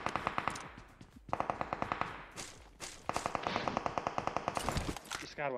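Rapid automatic gunfire from the Battlegrounds video game rattles in several loud bursts of evenly spaced shots, broken by short pauses and ending in a quick final volley.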